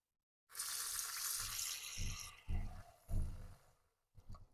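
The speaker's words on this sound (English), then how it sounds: "The next thing I will do is run some water on it" A kitchen sink tap runs water over raw beef, starting abruptly in a steady hiss, then breaking into several short surging splashes before cutting off and briefly restarting, with no talk.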